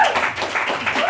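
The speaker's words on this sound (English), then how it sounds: "Big round of applause." Steady applause from a theatre audience for the cast of an off-Broadway play, a dense wash of clapping that holds evenly for about a second.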